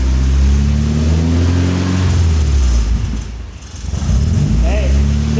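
A Nissan S14 with a rebuilt, modified KA24 truck-derived engine pulls hard through the gears, a loud close engine roar that climbs, drops briefly at a shift around the midpoint, then surges again, with voices faintly under it.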